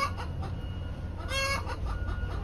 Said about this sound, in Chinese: 旁边有一只鸡下完蛋在那里一直叫